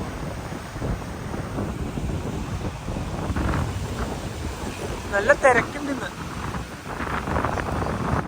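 Strong wind buffets the microphone on the Kanniyakumari seashore in a constant rough roar with gusty surges, and surf and a nearby boat are faintly under it while a voice speaks briefly.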